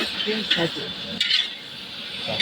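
Marinated chicken frying in a pan, giving a steady soft sizzle with faint stirring clinks while a voice talks over it.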